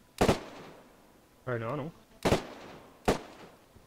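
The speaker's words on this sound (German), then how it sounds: "Ich höre die Schüsse hier oben." Gunfire in the DayZ video game, with three sharp broadband shots spaced about a second apart, the first close and loud, and a brief spoken remark between them.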